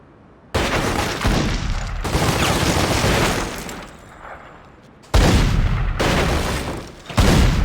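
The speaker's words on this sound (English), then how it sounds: "this shotgun will blow right through their body armor" Shotgun fire in The Godfather II game comes as loud, close blasts with heavy booming bodies, several abrupt shots each trailing into noisy rumble and echo.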